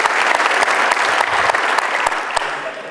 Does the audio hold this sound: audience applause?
yes